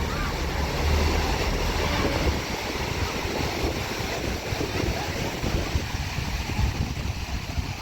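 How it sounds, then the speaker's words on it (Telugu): Ocean waves breaking at Puri beach form a continuous, loud rush of surf mixed with wind buffeting the microphone, with no clear gaps between swells. "వావ్, సముద్రాలు మొత్తం ఇట్లా వచ్చేస్తున్నాయి మనం మీదికైతే."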